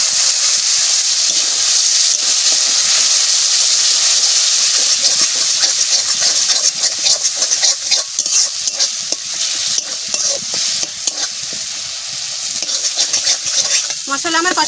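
Yogurt hitting a pan of frying spice masala for a tilapia curry, giving a loud, steady sizzle and hiss with stirring scrapes throughout, growing more broken toward the end.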